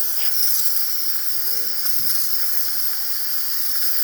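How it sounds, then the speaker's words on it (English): Steady, high-pitched hissing of steam from a Gaggia espresso machine's steam wand, continuous and close, with no voices. "give you this nice steady steam that you see right here."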